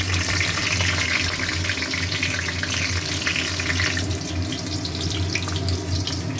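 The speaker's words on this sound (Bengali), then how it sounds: "কড়াই তেল দিয়ে দিচ্ছি আর দিচ্ছি কালো কালো জিরে ফোড়ন আর কাঁচা লঙ্কা" Black cumin seeds and green chillies sizzle in hot oil in a kadai, a steady, dense hiss that continues without a break throughout.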